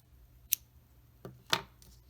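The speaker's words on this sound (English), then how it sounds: "and we cut the yarn" Scissors snipping crochet yarn, two or three short crisp cuts close by in a quiet room, each a quick metallic snap with brief gaps between them.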